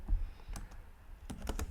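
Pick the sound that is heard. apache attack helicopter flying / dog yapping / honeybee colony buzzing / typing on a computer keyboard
typing on a computer keyboard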